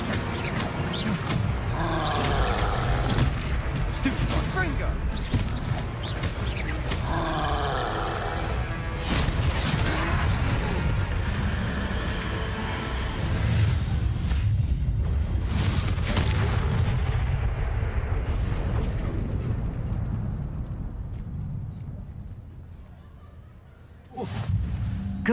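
A Confringo fire spell in a wizard video game sets off a series of booming blasts and crashes amid a fight with a troll, loud and rumbling for a long stretch before it dies down, followed by a final sharp hit.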